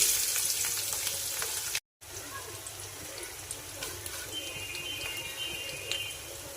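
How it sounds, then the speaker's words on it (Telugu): Chopped onions drop into hot oil in a home kitchen for a meat curry and fry with a loud, steady crackling sizzle, briefly cut off, then a continuing bubbling fry with faint stirring. "కాగానే కట్ చేసి పెట్టుకున్న ఉల్లిగడ్డలు వేసుకోవాలి."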